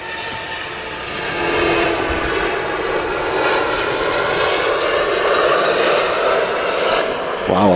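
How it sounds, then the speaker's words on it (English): A Gulf Air Boeing 787 Dreamliner rolls for takeoff at Manchester Airport. Its engines give a loud, steady broadband roar that holds and swells across the whole stretch, with faint voices underneath. "Here we go, Gulf Air Dreamliner now rolling."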